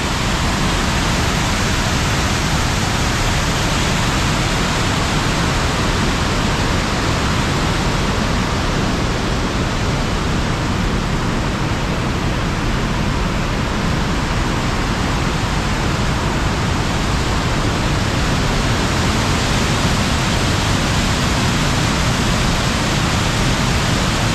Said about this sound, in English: and comes down this lovely weir. A hell of a force coming down here